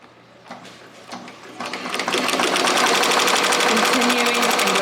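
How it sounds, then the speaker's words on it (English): A machine embroiders a large baseball bag, starting with a few sparse stitches that build into a dense, fast, continuous needle rattle, close and loud with no talk over it. "Continuing embroidery."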